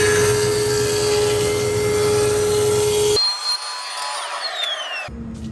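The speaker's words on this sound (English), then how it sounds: "watch what happens when I put this piece of camphor through the planer as is" A thickness planer feeds a camphor wood board, a loud, steady machine roar with a whining tone that cuts off abruptly, followed by a quieter spinning-down hum and a brief final rumble.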